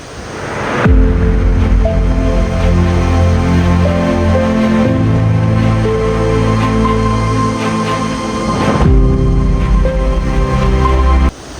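Rhine Falls in Switzerland roars as a loud, continuous rush of falling water that swells and stays dense and close throughout, with no talking.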